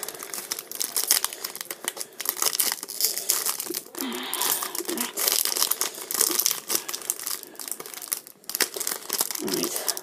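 A sealed Yu-Gi-Oh card pack wrapper, slightly sticky, crinkled and torn open up close, with continuous crackling plastic rustle and sharp tearing over about ten seconds.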